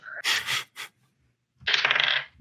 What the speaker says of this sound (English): Let me unstack my dice.